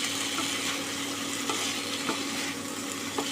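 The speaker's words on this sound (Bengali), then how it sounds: "2 চিমটি দিয়ে আবারও ভালো করে নেড়ে ভেজে নেব" A radish, eggplant and potato vegetarian curry with a pinch of hing fries in a pan, a steady close sizzle with occasional soft scrapes of stirring.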